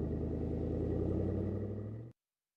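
A car driving past as a sound effect: a steady, fairly loud low engine rumble with mid-range drone that holds evenly for about two seconds, then cuts off abruptly to silence.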